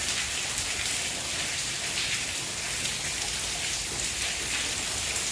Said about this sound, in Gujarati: અહીંયા બહાર વરસાદ પડવા માંડ્યો છે.